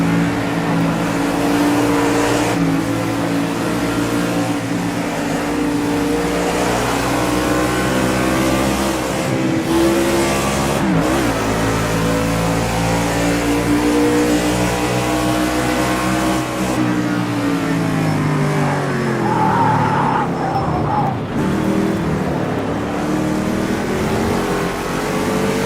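NASCAR race car engines roar in Project Cars 2, a loud, sustained drone with the pitch climbing and dropping through gear changes, running continuously with no talk over it.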